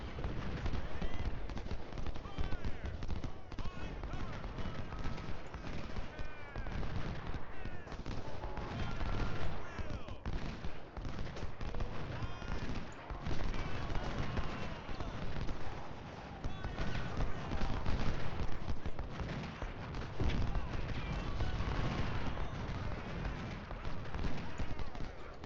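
Distant Civil War musket volleys and scattered gunfire crackle continuously across a battlefield in the strategy game Ultimate General Civil War, a dense, muffled din with occasional louder shots and a voice talking over it.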